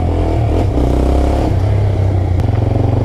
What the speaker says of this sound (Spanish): Lo único que hace ruido es el escape que tiene la chapa suelta.